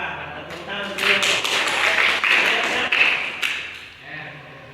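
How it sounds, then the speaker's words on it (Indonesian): Students in a classroom clap briefly, a small group of hands producing uneven, close slaps over about three seconds, with voices heard before and after the clapping. "tepuk tangan untuk beliau"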